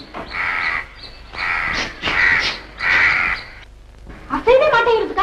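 A crow in a Tamil film scene caws four times in long, harsh, evenly spaced calls, loud and close, before a voice briefly takes over at the end.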